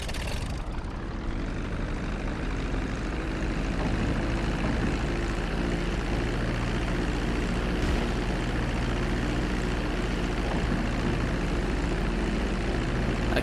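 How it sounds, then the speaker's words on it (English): A propeller plane taxis toward a hangar in Grand Theft Auto 5, its engine droning steadily and loudly throughout without pause, with no voices. "Oh, taxi the plane to the hangar?"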